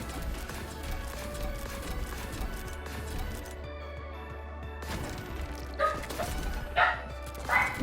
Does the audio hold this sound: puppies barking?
yes